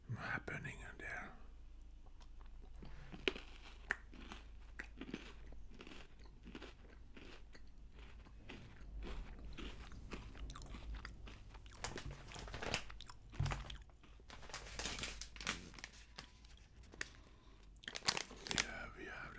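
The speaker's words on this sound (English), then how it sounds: "salty crunch popcorn, Italian one." Salty Italian crunch popcorn is chewed close up in repeated crisp crunching bursts and softer mastication, under quiet whispering.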